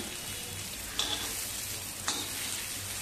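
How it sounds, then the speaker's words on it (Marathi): Stuffed bitter gourds with masala fry and get stirred in a pan, giving a steady close sizzle with two brief utensil scrapes. "आणखी 1 मिनिट आपण चांगली परतवूया आणि गॅस बंद करूया"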